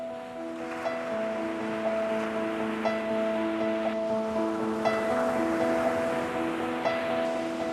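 Ocean waves wash onto a beach at Almada, a steady soft roar of surf with sustained tonal sounds layered over it and a few faint swells in loudness.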